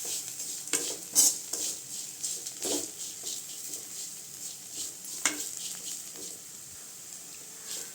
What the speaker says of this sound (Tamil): ஒரு 2 நிமிஷம் நல்லா கிண்டி விட்டுக்கலாங்க.